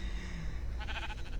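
Sheep bleating in a Lego Island video game, a short wavering bleat that rises over a steady background hum and lasts under a second.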